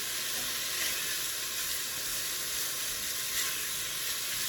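Sausage browning in a pan for Zuppa Toscana gives off a steady, dense sizzle, a continuous bright hiss with no talking over it.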